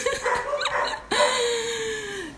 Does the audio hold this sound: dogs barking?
yes